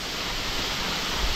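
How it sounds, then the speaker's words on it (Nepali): Overflow water from above pours down as a steep waterfall beside a slippery path, giving a steady, dense rushing roar with no pauses and no voices. "यो चाहिँ माथिबाट बत्तीको ओभरफ्लो पानी आएको झर्ना हो"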